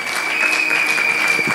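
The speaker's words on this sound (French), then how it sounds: "On applaudit pour cette étudiante." Brief burst of steady audience applause at a Bible school graduation ceremony, honouring a graduating student; dense even clapping from a crowd, no speech over it.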